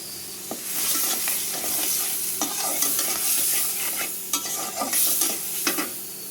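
Oil sizzling hard in a pan before beef is cooked, a loud, close crackle with frequent sharp pops and spatters over a continuous hiss.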